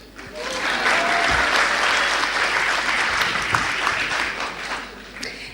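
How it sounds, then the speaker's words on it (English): An audience at a women's movement conference plenary applauds loudly, a dense sustained burst of clapping that swells quickly and tapers off near the end, with some voices mixed in. "Loud applause."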